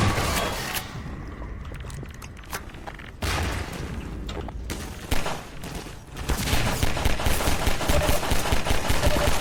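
Loud, sustained gunfire in the game Night Owl Prospekt, with rapid automatic bursts and heavier booming shots layered into a nearly constant barrage that intensifies toward the end.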